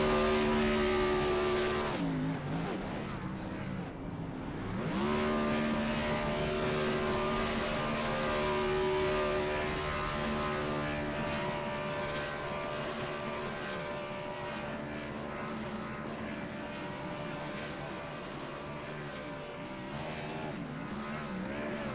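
An Xfinity Series race car does a burnout on the front straightaway at Darlington Raceway in a racing game, its engine roaring steadily at high revs with pitch dips and climbs as it revs through the long, continuous stretch.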